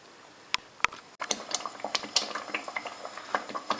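Fish curry masala sizzles and bubbles gently in a pan on low heat, a soft crackling texture with scattered small pops and light utensil clinks, close by and without talk.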